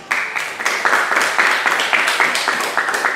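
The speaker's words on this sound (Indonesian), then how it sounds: "beri tepuk tangan ya." Group of students clapping together in a classroom, a steady crowd of overlapping claps lasting throughout, fairly loud and close, with no speech over it.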